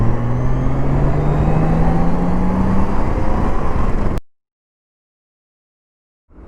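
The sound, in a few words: 2015 Honda Gold Wing motorcycle riding on the highway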